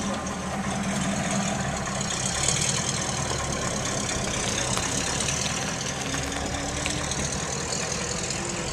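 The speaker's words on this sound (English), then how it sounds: "That's the Roadster firing up" A 1929 Cadillac Roadster's engine running after starting, a steady low idle rumble with a light mechanical clatter, close and fairly quiet, no talking.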